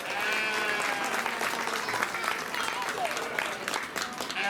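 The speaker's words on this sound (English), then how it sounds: "give her a big round of applause, and the entire class a round of applause" A crowd claps steadily and fairly loudly at a youth sheep show at a county fair, a dense sustained round of applause with faint voices mixed in.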